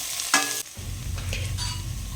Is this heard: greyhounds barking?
no